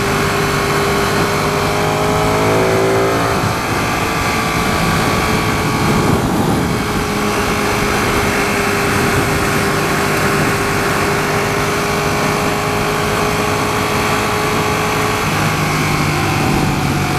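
A 2016 Ducati 959 Panigale motorcycle engine drones steadily at speed on a freeway, loud and continuous with heavy wind rush, its pitch easing down and rising through shifts without any talk.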